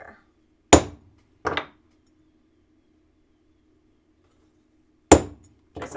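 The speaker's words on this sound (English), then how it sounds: "So punching both ends in the center," A hammer strikes a center punch into the bottom ends of a workpiece, four sharp metallic taps in two separated pairs with a faint steady hum between them.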